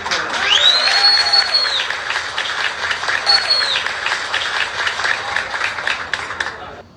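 A crowd claps in sustained applause at a political gathering, with voices and sharp whistle-like tones mixed in.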